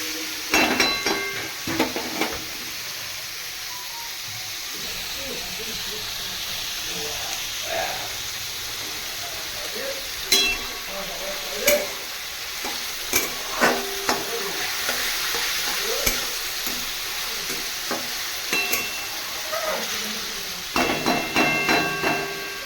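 Food fries in a pan while pasta is being cooked, giving a steady sizzle broken by repeated clanks and scrapes of a spatula against the pan, with clusters of sharp knocks near the start and the end.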